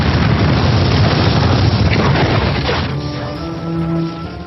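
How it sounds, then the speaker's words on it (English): A massive explosion effect for a historical retelling of a house blown up by the city walls of Edinburgh at night, a loud, sustained booming roar that fades into a lingering rumble. "late one night there was a massive explosion"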